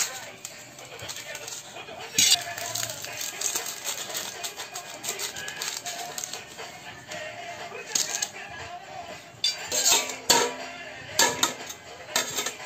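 A child mixing food in a pot with utensils, irregular metallic clinks, taps and scrapes up close, intermittent and moderately loud, while people talk.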